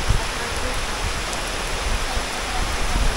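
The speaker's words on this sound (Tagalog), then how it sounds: "Kaso anong lakas na ng ulan." Heavy typhoon rain pours down on a river in San Pablo City, Laguna, in a dense, loud, continuous hiss, with a few low thumps of drops striking a nearby surface.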